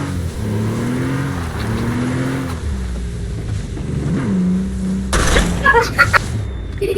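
A car driving in a video game, its engine humming and revving with rising and falling pitch, followed by a few sharp bangs and clatters near the end; faint voices sit in the background.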